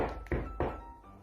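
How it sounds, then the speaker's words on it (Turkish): Two dull knocks land on a door about a third of a second apart, fairly close and moderately loud. "Kapı çalıyor."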